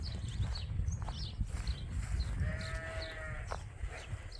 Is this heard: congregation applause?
no